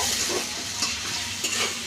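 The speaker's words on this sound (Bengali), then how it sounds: "এগুলো হালকা ভাজার পরে" Garlic and cumin paste fries in a pan with chopped onion, giving a close, steady sizzle with a few soft stirring scrapes over a brief stretch.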